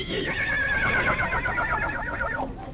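A horse neighs in an old time radio play, one long, loud whinny that rises and then trails off in shaking waves, close to the microphone and heard clearly on its own.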